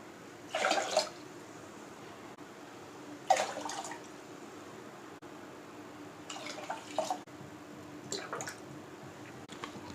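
Water is poured from a cup into a pressure-cooker pot of foxtail millet and moong dal, four separate short splashing pours spaced a couple of seconds apart, close and without voices.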